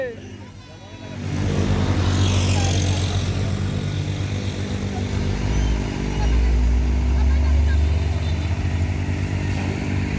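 A Colt diesel truck engine rumbles loud and low during recovery of an overturned truck, building after a quiet start and holding steady for several seconds, with people talking around it.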